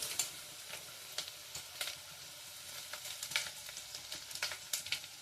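A ground paste of cumin, coconut and garlic sizzles in a hot pan, a steady frying hiss broken by frequent crisp crackles and spatters, with no voices.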